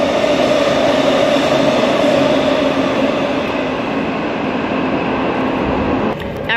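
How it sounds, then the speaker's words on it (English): An electric multiple unit train speeds past a station platform with a loud, close, sustained rumble and steady hum that eases slightly before a sudden clatter at the end. "Ground service passing platform 2. Very fast EMU 64."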